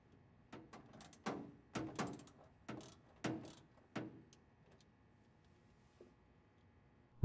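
Mechanical clicks and ratcheting from turning the hand wheel to tilt the blade on a SawStop Professional Cabinet Saw, heard as several separate bursts with short pauses between them and then a quieter stretch, with no talking.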